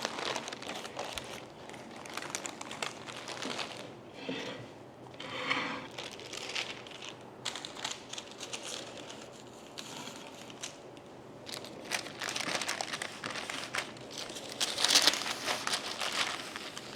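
Baking paper crinkling and rustling as a chocolate cherry rippled sponge roll cake is lifted onto a plate, a steady close crackle of soft crumpling that swells and fades over several seconds with no talking.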